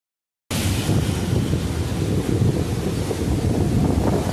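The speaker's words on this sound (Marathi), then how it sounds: "पाणी खूप जोरात आहे मित्रांनो, प्रवाह पण पाण्याचा खूप जोरात आहे" Strong water flow at Khadakwasla dam, a loud, steady roaring rush starting abruptly after a brief silence and continuing unbroken, mixed with wind noise.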